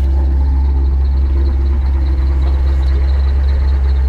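The V8 engine of a C5 Corvette Z06 idles through a Flowmaster exhaust with a deep, steady low rumble, constant and loud with no changes in pace.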